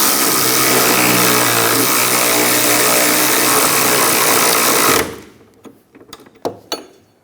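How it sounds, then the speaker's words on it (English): Rear sway bar link nut on a 2003-2007 Honda Accord being snugged down with a 15mm socket while a 14mm wrench holds the stud: a loud, steady mechanical whirring rattle for about five seconds, then a few sharp, scattered metallic clicks. "Use a 14mm wrench to hold the sway bar link stud, and use a 15mm socket to snug down the nut."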